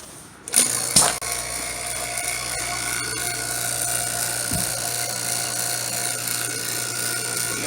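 An HVAC vacuum pump starts up with a sharp clatter and settles into a steady, close mechanical drone with a fixed whine and low hum, running continuously without talk.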